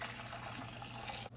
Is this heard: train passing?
no